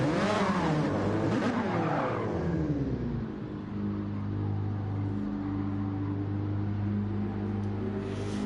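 A race car in Gran Turismo 7 spins out at Fuji International Speedway, its engine loud and continuous with a falling, sweeping whine and tyre noise.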